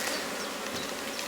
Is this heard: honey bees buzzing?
yes